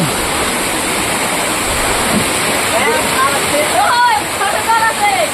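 The large Borjhora waterfall at Kachuagaon, Bongaigaon, makes a loud, constant close roar of falling water, with people talking over it.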